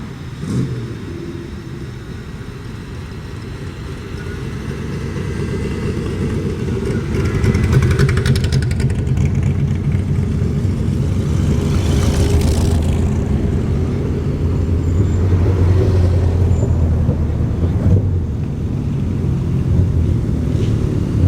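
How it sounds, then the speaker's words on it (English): A group of home-built cars and kit cars rolls into a showground field, engines rumbling steadily and swelling as they draw closer, with the low drone continuing throughout at a moderate distance. "Next into the field, a whole gaggle of home-built cars, kit cars and such like."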